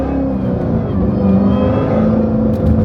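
A Corvette C7 Z06 engine under sharp throttle hums steadily with a rising supercharger-like whine layered over the low rumble, close and continuous throughout.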